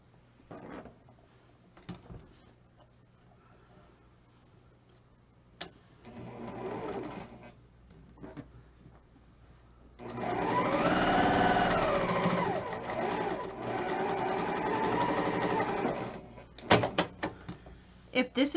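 A sewing machine runs steadily for several seconds, stitching flying geese quilt pieces onto either side of a center square, its motor whirring close and loud after a few quieter handling clicks and knocks.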